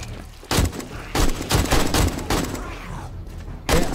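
Rapid bursts of gunfire in the video game 7 Days to Die boom out in quick succession, loud and close, with a few heavy shots spaced across the moment.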